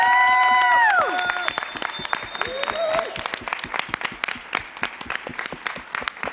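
An audience claps and cheers after a dance performance, loud dense applause with whoops at first that settles into steady clapping, while speech runs underneath.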